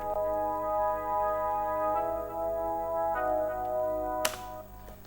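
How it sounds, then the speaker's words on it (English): A synthesizer in LMMS sustains smooth chords from a dance track, changing chord roughly every one to two seconds, steady and moderately soft, with a brief bright click near the end and no voices. "the same chords I have situated in different synths"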